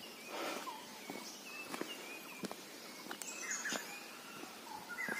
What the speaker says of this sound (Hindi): आप चारों तरफ से सुन सकते हो पक्षियों की चहचहाने की आवाज